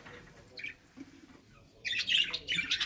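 Pet birds in an aviary squawk and chirp in short bursts, with a louder, busier cluster of close calls in the second half over a quiet room background.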